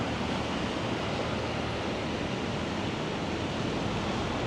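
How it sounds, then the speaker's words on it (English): Ocean surf on Da Nang beach in the rainy season rolls and breaks in a constant, loud wash, with a dense rush and no talk. "Even if you're not a surfer, it's just very nice, these waves."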